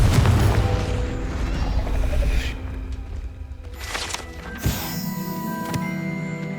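A Confringo spell explosion in the video game Hogwarts Legacy, a loud booming blast over dense game ambience, followed by a sharp crash and fading rumble.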